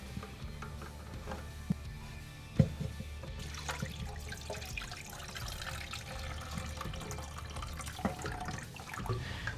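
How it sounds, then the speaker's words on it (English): Water trickles and drips from a toilet tank while the fill valve nut is loosened during a toilet rebuild. The flow is quiet and steady, with a few sharp clinks from tools and parts and no talking. "You may get some water out of the tank, so have your bowl ready again."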